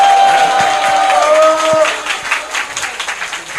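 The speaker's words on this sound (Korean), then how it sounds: "귀한 말씀 해주신 위원장님께 큰 박수 부탁드리겠습니다." Applause from the audience at a youth committee launch and appointment ceremony, honoring the committee chairman. Clapping and crowd noise begin under a held musical tone and talk, then continue as a loose, moderate patter.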